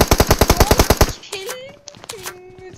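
A machine gun in a team-deathmatch shooter game rattles off about a dozen evenly spaced, punchy rounds in just over a second, then stops, leaving quieter game sounds and voices.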